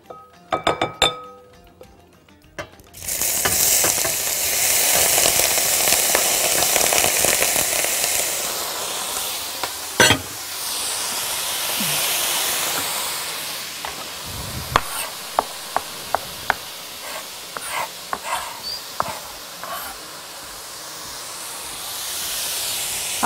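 Shrimp dropped into a very hot pan of oil, a loud steady sizzle and hiss that fills the clip after a few seconds, with occasional sharp clinks of utensils against the pan.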